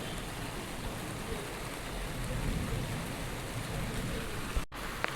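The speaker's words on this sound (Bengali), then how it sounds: "প্রচুর পরিমাণে কিন্তু বজ্রপাত দিচ্ছে" Heavy monsoon-style rain pours down in a steady, fairly faint hiss with a low rumbling undertone, unbroken for several seconds and with no speech.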